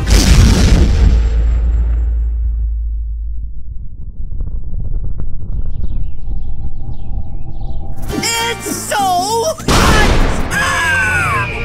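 Sun explosion in the Roblox Brookhaven RP video game, a massive booming blast with a deep rumbling low end that fades into a sustained roar, followed by warbling electronic game sounds.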